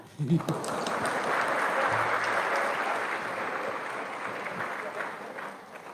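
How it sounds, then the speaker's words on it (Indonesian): Steady applause from an audience at a motivational talk swells quickly and holds for several seconds before thinning slightly toward the end, with a brief voice near the start. "Ya, tepuk tangan."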